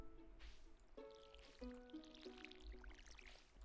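Watering can splashing over crops in the farming game Stardew Valley, a few soft pouring and dripping bursts repeating in short rhythm, faint and mixed with light game music tones, no voices.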